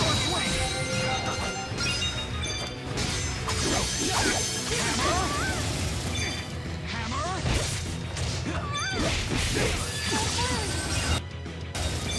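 Combat in the Tales of Xillia 2 role-playing game, with a cat enemy letting out several rising and falling meows amid constant loud smashes, whacks and swooshes of battle effects.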